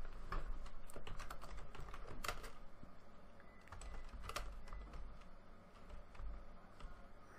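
Quiet, close clicking of computer keyboard keys while a file name is typed, irregular bursts of keystrokes running for several seconds with no voice over them.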